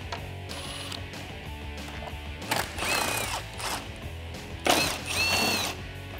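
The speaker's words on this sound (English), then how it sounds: "I'm going to use a 10mm socket in order to take those out." Ratchet with a 10mm socket backing out the bolts that hold a headlight on a Jeep Wrangler JL, giving several short bursts of ratcheting clicks over a low background hum.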